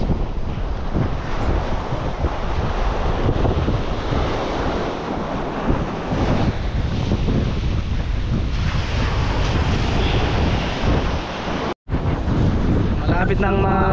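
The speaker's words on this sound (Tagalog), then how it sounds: "lumalakas yung hangin" Strong, steady sea wind roars across the microphone with surf churning underneath, a continuous loud blustery rush with one brief dropout near the end, near Didicas Volcano.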